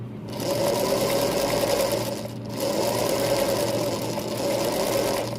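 Sewing machine stitching steadily along a seam on a fabric bib, running nearly continuously with a brief pause partway through as it backstitches to lock the seam.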